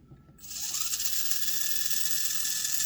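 A Panda Hobby Tetra K1 RC car's Surpass motor spins up at half throttle in reverse, starting abruptly and holding a steady, high-pitched mechanical whine with a fine gear-like rattle, close and alone.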